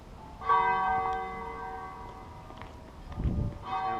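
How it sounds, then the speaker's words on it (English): A large bell tolls twice with long, ringing overtones that fade slowly, heard from a moderate distance with a thump of handling noise between strikes. "Look at the bells."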